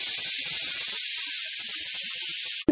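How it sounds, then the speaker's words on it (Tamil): Mixed vegetable curry simmers in a pan as its water cooks down, giving a steady, bright sizzling hiss that holds throughout before a brief clatter at the very end. "இது நல்லா இந்த தண்ணி கொஞ்சம் சுண்டுற அளவுக்கு வேகட்டும்"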